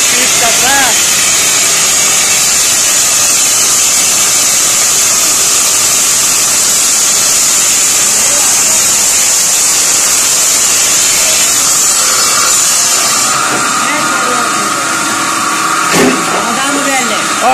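A stone grinding and polishing machine running in a stone-cutting factory, a loud steady whirring drone that continues unbroken throughout, with brief voices near the end.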